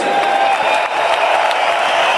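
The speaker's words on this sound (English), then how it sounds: "can we please have a round of applause for these two world-class warriors?" A boxing arena crowd applauds and cheers for two world-class fighters after a bout, a dense, continuous wash of clapping with scattered whoops that stays loud and steady throughout.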